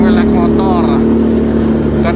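Motorcycle engine running on a ride to work, a loud steady drone with a rising and falling whine close up, a rider talking over it.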